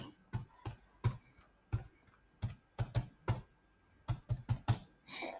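Someone types a password on a computer keyboard, close and quiet, with irregular bursts of crisp individual keystrokes separated by short pauses.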